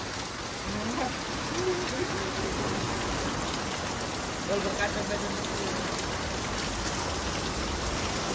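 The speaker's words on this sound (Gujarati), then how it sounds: "જો કેવો વરસાદ છે આમ જુઓ તમે" Heavy summer rain pours steadily in strong wind, a constant hiss, with faint voices murmuring briefly beneath it.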